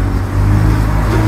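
A baggage truck towing a cart rolls up at a train station platform, its steady low engine drone close and continuous throughout.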